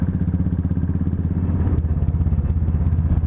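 Royal Enfield 350–500cc motorcycle engine thumping steadily at close range while riding, a continuous loud single-cylinder chug with rapid even pulses and slight clatter, no talk.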